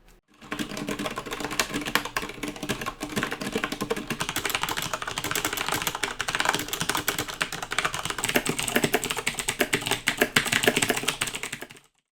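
Rapid, continuous clacking of a Velocifire VM01 mechanical keyboard with Zorro Brown switches being typed on close up, steady and dense for about eleven seconds with no voices.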